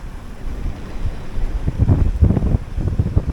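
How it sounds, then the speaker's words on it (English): A strong gust of wind roars across the microphone aboard a 21-foot junk rig sailboat in big ocean waves, building and buffeting over a low rumble of water and hull noise, with no talking. "We just had a big gust there."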